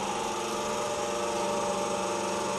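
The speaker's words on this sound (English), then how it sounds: "Now we can run the hydraulic motor by using here." A hydraulic pump and hydraulic motor running on a hydraulic training kit, a dense steady mechanical hum with a constant drone that stays even throughout, close and uninterrupted, with no voices.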